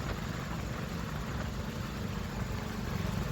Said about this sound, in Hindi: ऊपर से ट्रैक्टर फुल रेस में चल रहा था